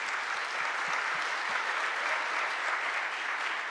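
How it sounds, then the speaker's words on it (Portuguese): A church congregation applauds Jesus during a service, a steady, even wash of many hands clapping that holds without a break from start to end. "Pode aplaudir a Jesus."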